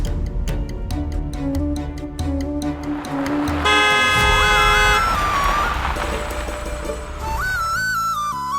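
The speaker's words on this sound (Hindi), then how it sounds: "गाड़ी की आवाज आई तो" A car arriving at a family home, sounding several short honks of its horn, loud and close, followed by sustained tonal horn and music-like blasts that shift in pitch, with no talk.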